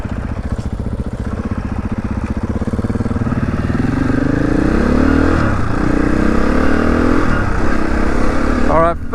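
A KTM 500 motorcycle revs while being ridden, its loud, close engine climbing and falling in pitch with rising acceleration, rough and throaty against wind noise, while someone talks over it.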